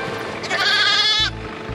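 An injured sheep from a flock savaged by two dogs lets out one loud, wavering bleat close by, followed by low rumbling background noise.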